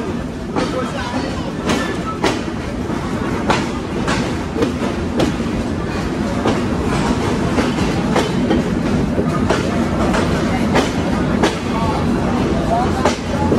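Sundarban Express train at Jessore railway junction, with loud rhythmic clickety-clack of wheels over rail joints and a rumbling carriage drone, close and continuous, with crowd noise mixed in.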